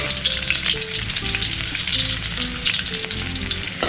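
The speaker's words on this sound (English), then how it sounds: "I'm going to add in this fresh turmeric. I'm using high flame to fry this until fragrant." Fresh turmeric fries over high flame in a wok with oil, a loud, continuous, close-up sizzle and crackle that holds steady throughout, with light stirring and no voices.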